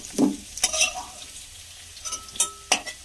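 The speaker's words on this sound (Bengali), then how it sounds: "এইভাবে সব আলুগুলোই তুলে নেব" Fried potatoes are lifted out of hot oil in a pan, with a low sizzle under a few sharp clinks and scrapes of a utensil, spaced irregularly and heard close by.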